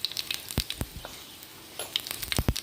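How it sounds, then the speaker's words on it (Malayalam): Mustard seeds splutter and pop in hot coconut oil in a pan, giving sharp scattered crackles over a soft steady sizzle, close and fairly quiet, with no talking. "അപ്പോൾ കടുകൊക്കെ നന്നായിട്ട് പൊട്ടിയിട്ടുണ്ട്."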